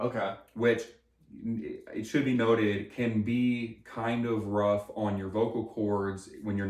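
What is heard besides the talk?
No everyday noise stands out behind the speech.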